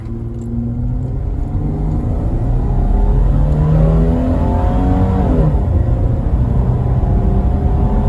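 Holden VY Commodore launching hard from a stall-up start, its engine revving up through the gears with rising, loud rumbling pitch sweeps and a brief dip at a shift, close and continuous.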